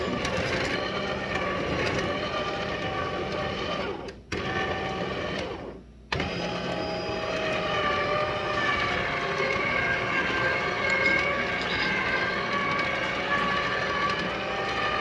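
A juicer machine runs with a loud, steady droning whine that cuts out briefly twice before resuming evenly.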